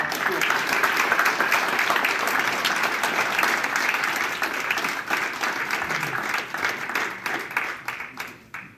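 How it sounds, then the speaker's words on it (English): At a school board candidate forum, the audience gives a round of applause, dense and sustained at first, then thinning into scattered individual claps toward the end, with voices faintly underneath. "let's give them a round of applause"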